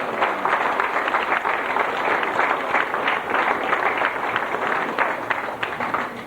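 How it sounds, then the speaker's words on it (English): Applause at a 1994 book launch in Killawalla, a loud, dense wash of many hands clapping, steady and sustained with a few sharper claps near the end. "A big round of applause."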